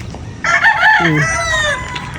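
A rooster crows loudly and close by, a long drawn-out call, with a brief cluck mixed in and faint background noise.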